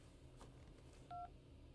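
A telephone in the Syberia 2 video game gives a single short, clean dial tone. The tone is brief and quiet, set against a faint low background.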